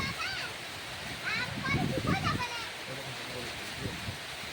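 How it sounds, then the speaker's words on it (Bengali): Long-awaited monsoon rain falling in a Rajasthan village near a cattle shed, a steady wash of rain and splashing heard close, with people talking and a voice over it. "মানে অনেক দিন পরে বৃষ্টি হচ্ছে তো"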